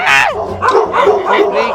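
Several dogs bark and yip in a rapid run of loud, close barks at a house gate, while someone talks over them.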